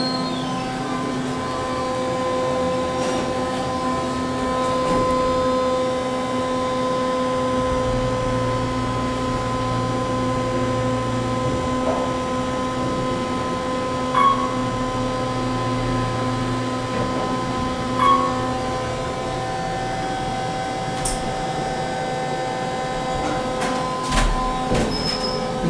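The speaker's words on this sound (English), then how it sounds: "We'll try to hear the motor going up to 3." Otis Series 1 hydraulic elevator at a Courtyard by Marriott in Lakeland, Florida, its motor humming steadily beneath the louder whir of the cab fan, with a few faint clicks and thumps along the ride.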